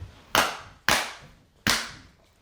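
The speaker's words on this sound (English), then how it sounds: "So I'm just gonna clap again, just to make sure." Three sharp hand claps about half a second apart, each a crisp, close slap with a short decay, in an otherwise quiet room during a podcast recording.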